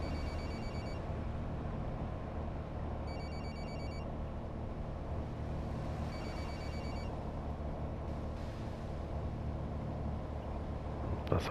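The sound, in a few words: phone ringing in Fernbus Simulator video game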